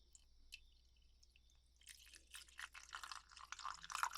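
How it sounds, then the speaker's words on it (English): Golden liquid pours and trickles in soft, close wet splashes during the second half, following a quiet stretch with a faint high tone in a calm spa setting. "Just pouring a bit of this beautiful golden liquid."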